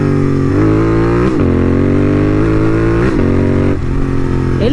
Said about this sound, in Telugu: ఒకసారి ఈ బండి డౌన్ షిఫ్ట్ అండి.